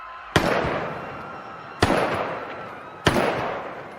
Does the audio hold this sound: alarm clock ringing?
no